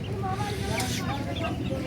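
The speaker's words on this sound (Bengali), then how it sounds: "এদিকে দেশি মুরগি, দেখো লড়াই করা মুরগি।" Desi fighting chickens cluck in a village yard, a close run of short, repeated clucks over a steady murmur of background noise.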